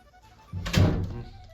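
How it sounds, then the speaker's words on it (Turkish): A door pushed shut indoors, a single muffled thunk with a brief low rumble and short tail, close and fairly loud, preceded by quiet room noise. "Kapat kapıyı daha."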